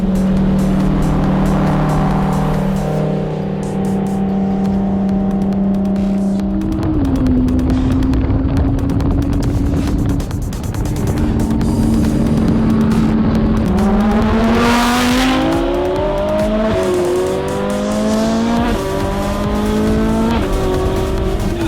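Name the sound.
Lamborghini supercar engine sound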